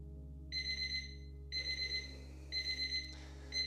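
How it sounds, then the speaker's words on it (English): Electronic timer alarm beeping in repeated bursts of rapid pulses, each lasting about half a second with short pauses between, sounding clear and alone over a steady low background hum during a yoga session. "There's the timer."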